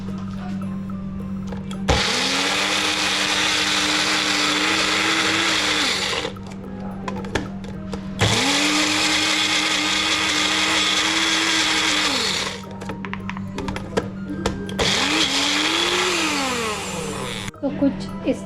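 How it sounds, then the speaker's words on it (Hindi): A kitchen blender grinds boiled mixed vegetables into a puree in three loud whirring runs of several seconds each, separated by short pauses, over a steady low electrical hum. "सो सारे वेजेस हमने बॉईल करने के बाद मिक्स कर दिया ग्राइंड होने के लिए।"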